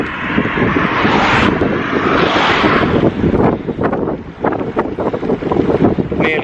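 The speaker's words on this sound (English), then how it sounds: "The wind's got up quite a bit now." Strong wind roars and buffets the microphone in a steady, loud rush while riding a recumbent trike outdoors in Holland, with gusty fluctuations throughout.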